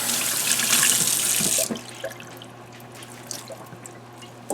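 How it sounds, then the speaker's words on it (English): A rabbit hide, a black otter Rex pelt, rinsed under a running tap that gushes loudly into a sink for about a second and a half, then stops, leaving scattered drips and small wet handling sounds. "now we're going to give it a good rinse"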